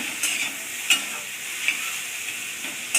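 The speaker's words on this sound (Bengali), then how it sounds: "ডিম দিয়ে এটা ভাজবো" Banana flower frying with egg in a pan gives a close, steady sizzle broken by a few sharp scraping stirs of a spatula at irregular intervals.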